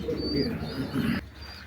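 Oman teddy bloodline pigeons coo in low, rolling, repeated calls close by, with faint chirps around them. No one speaks.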